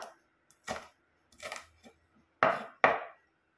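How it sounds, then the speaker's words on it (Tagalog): Knife chopping on a cutting board while preparing ground meat with vegetables in a home kitchen: five separate crisp chops, the last two loudest and close together, with quiet pauses in between. "So, hiwain ko lang to."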